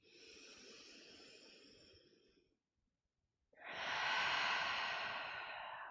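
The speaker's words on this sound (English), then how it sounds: "Let's maybe just take 3 more of those cleansing breaths all together" Two deep cleansing breaths during a meditation session: a long, soft breathy exhale, a brief silent pause, then a stronger, louder airy breath, close to the microphone.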